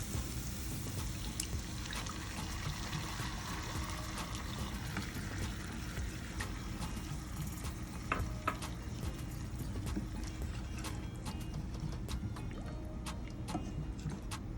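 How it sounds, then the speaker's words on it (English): A steady pour of coconut milk mixed with ketchup into a cooking pan, with soft trickling and occasional small clicks, continuous and fairly close, no talking. "So I'm just gonna add my coconut milk and ketchup in."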